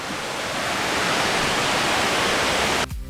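Jet Sao Noi waterfall in Saraburi, a low multi-tiered cascade, pours in a steady broadband rush of falling water that stays loud and constant, then drops away abruptly near the end.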